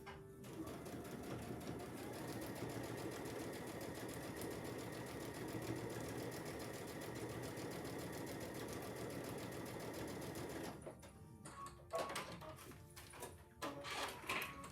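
A sewing machine stitches a quilt block seam in one steady, continuous whir for most of the stretch, then stops, leaving brief clicks and handling noises near the end.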